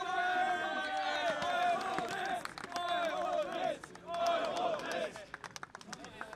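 A crowd gives the Eurodisc cheer in the rain as a golden disc is presented, many voices chanting together in rising waves with scattered claps, loud and sustained.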